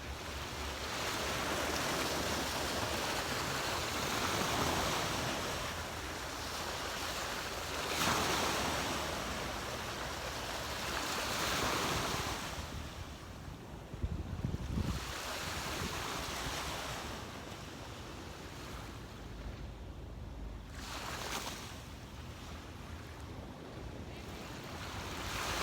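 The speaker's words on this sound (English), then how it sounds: "take this last minute here to look out on our magnificent view and soak in the sounds of the waves" Ocean waves wash onto a beach at sunrise, broad surging roars rising and falling every few seconds, with breezy wind noise and no talking.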